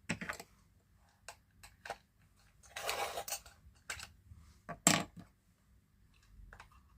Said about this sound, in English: Just get these sharpened.